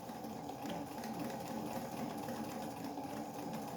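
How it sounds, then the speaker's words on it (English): A vintage White Model 764 'Fair Lady' sewing machine stitches fabric with a steady, even mechanical hum and rapid needle chatter, running continuously and fairly quiet. "It's such a nice quiet machine."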